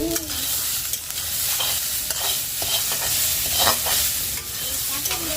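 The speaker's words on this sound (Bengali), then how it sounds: "চলো এখন ভেজে নেই ভুট্টাটা। আর লবণ আর সামান্য একটুখানি তেল দিয়ে ভাজবো" Corn kernels fry in a pan with salt and a little oil, a steady close sizzle with scraping stir strokes and soft pops running throughout, no talking.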